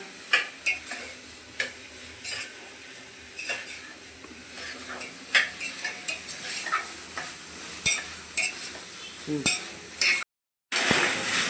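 Vegetables fry in a pan for bisi bele bath, with a steady sizzle and repeated scraping and clinking of a spoon as they are stirred, broken briefly by a moment of silence near the end.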